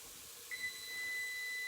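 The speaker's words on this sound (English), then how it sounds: "there's that timer again." A kitchen timer sounds a faint, steady high-pitched beep that starts midway and holds over a quiet room.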